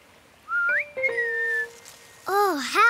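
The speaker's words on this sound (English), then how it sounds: "I just make a whistle shape with my mouth and blow." A person whistles several clear sliding notes, some held and some rising and falling in a wavy tune, close and fairly loud, with a little speech mixed in.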